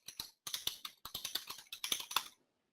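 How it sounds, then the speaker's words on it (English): Rapid keyboard typing at close range in several quick bursts of crisp clacks with brief pauses between, loud and dry with no talking. "Let me quickly type this in here for 1 second."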